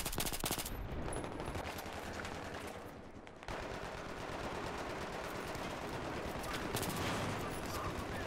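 An AS Val rifle fires in Battlefield 3 multiplayer on the Tehran Highway map, loud, rapid bursts of gunfire crackling almost continuously amid other shots.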